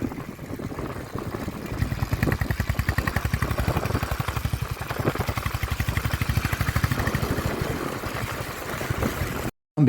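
A motorbike engine hums with a steady pulsing throb while riding on a mountain road near Bhimtal, loud and close with wind rush, cutting out briefly at the very end.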